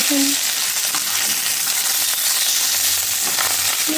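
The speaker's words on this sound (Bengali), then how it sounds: "আমার মাছ ভাজা হচ্ছে" Oil sizzles and crackles steadily as fish fries in a pan, a close, continuous hiss with a few faint clinks.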